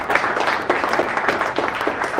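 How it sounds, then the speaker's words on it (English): An audience at a product managers' meetup on AI claps in a brisk, dense round of applause, close and steady throughout the short burst. "Round of applause and everything."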